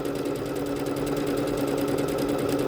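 A Bernette B-77 sewing machine stitches out a decorative stitch, a steady, loud, rapid mechanical whir with even needle ticks running throughout and no talking.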